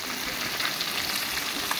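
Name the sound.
fish frying in a pan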